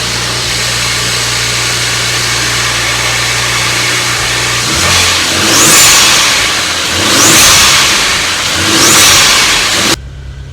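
A BMW E36 with an N54 engine idles with a low steady hum, then rises in three swelling revs before cutting off abruptly, heard up close with no talking.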